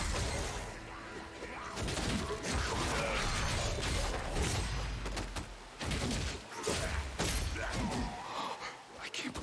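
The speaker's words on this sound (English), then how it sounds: "You destroyed the bridge." A bridge being destroyed in the video game Lost Ark, with dense crashing, crumbling and whooshing impacts mixed with battle noise and voices throughout, loud and continuous with sharper bursts.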